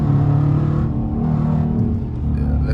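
Dodge RT car engine rumbles deep and steady while driving, loud and close from inside, with a slight swell in the middle and no talking over it.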